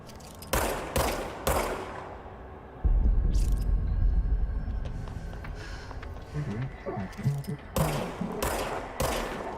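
Gunfire in Control comes in sharp, loud bursts of rapid shots, with clusters near the start and end and a heavy rumbling boom between them, close and punchy against quieter game ambience.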